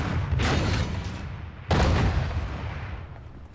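French artillery in the Second World War fires back across the Meuse, two heavy booms with long rumbling decay, the second sharper and louder, each blast sweeping up into a bright crack.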